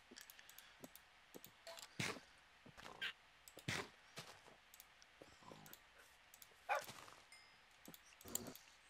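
Tamed dogs in the Minecraft video game let out short, faint barks at irregular intervals, mixed with soft clicking noises from play.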